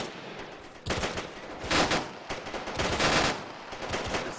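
Machine gun fire in Arma 3 rattles out in several long sustained bursts, sharp and moderately loud, with brief pauses between volleys.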